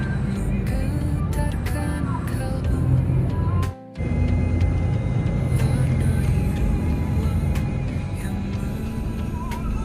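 Busy Raja Basah bus terminal with buses idling and moving, a continuous loud rumble of engines and traffic with brief clatters and one short break in the sound.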